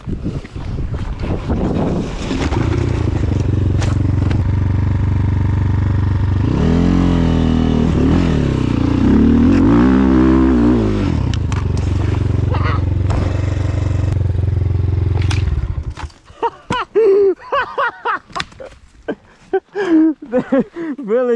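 A KOVI Lite 300 motorcycle riding downhill, with a steady engine drone and heavy wind buffeting the microphone for about fifteen seconds, then the engine drops away into quieter irregular sounds as people talk.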